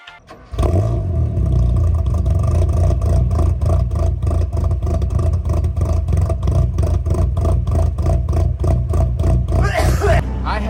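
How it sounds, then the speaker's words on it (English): A Toyota Celica four-cylinder engine runs loud and close, its steady idle note broken by a long series of quick, rhythmic throttle blips that rise and fall evenly before a brief hiss at the end. "It's got a really cool tone at idle and pretty much at all RPM speeds."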